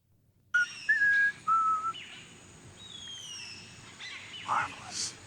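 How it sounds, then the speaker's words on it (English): In Star Trek: The Next Generation, the android Data whistles a few unsteady, off-key notes on a starship bridge, followed by faint electronic beeps and hum. "And then Data's up there whistling badly."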